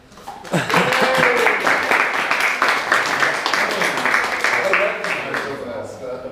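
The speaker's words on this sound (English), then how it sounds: "Applause, please." Audience applause following an engineering presentation, a loud swell of many hands clapping that starts abruptly and holds steady, with a voice briefly audible near the start.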